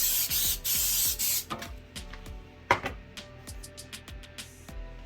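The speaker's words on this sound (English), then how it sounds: "coconut non-stick, very simple, right? Get it in there, get it on the side." A can of coconut non-stick cooking spray hisses into a cake pan in one long close burst, then a few shorter spurts as the sides are coated, with light clatter of the pan between.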